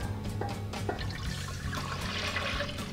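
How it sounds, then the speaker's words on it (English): Grits pour from a container into a big saucepan in a kitchen, a steady wet rushing pour, close and fairly quiet, with no talking. "So what I wanna do is pour it into this big saucepan."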